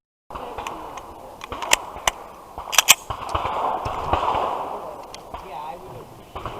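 Gunshots crack at an outdoor shooting match at a gun club, several sharp reports scattered irregularly over a steady background rumble, some close and loud, others more distant.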